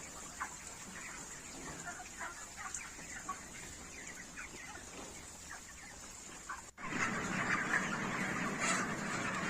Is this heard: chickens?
yes